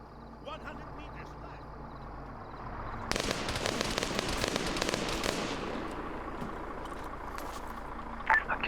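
Rapid gunfire in a military video game breaks out as a dense burst of shots lasting a couple of seconds, loud against a steady background hum, with a voice talking over it.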